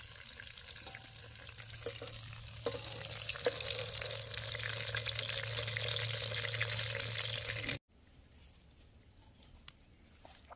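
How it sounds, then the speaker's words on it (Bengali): Prawns sizzle in hot oil in a pan for a potol chingri dish, a dense steady crackling hiss under a low hum that cuts off abruptly, leaving quiet faint background afterward. "এবার চিংড়ি মাছটা হালকা করে ভেজে নিব"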